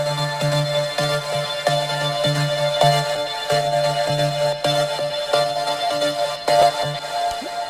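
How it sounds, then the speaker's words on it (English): A PML synth loop for a trance melody, played dry without LFO processing: a steady, repeating pattern of bright, tonal plucked notes with a sustained bass-register note underneath, loud and alone with no talk. "If I just play the loop by itself without the LFO processing"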